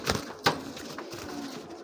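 A Giribaz pigeon is caught and held in the hand, with two sharp close rustles of flapping wings followed by soft cooing and handling noise.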